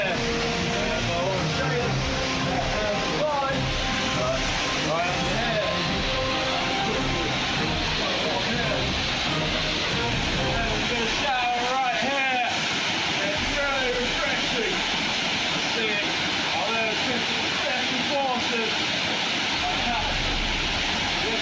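Waterfall pouring through a rocky survival spot, a broad continuous rush of falling water with steady hiss throughout, overlaid by louder broken splashing and talk-like sounds in the second half.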